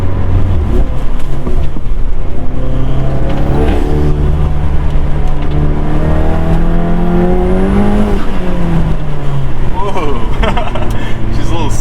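A 350HP Volkswagen Mk7 GTI drives a snowy Vermont mountain road, its engine droning loud and close with pitch climbing and falling through rev changes, and a voice talks over it.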